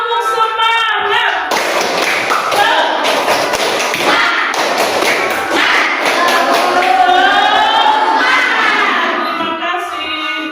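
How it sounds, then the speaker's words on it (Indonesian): A sixth-grade class performs a tepuk semangat spirit-clapping routine, with loud rhythmic claps and thumps in patterned bursts while young voices chant along throughout. "Tepuk semangat."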